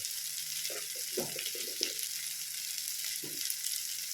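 Chili powder and ground cumin being stirred through a hot pan for onion puttu masala: a steady sizzling hiss with short bursts of scraping strokes, close and moderate in volume, no voices.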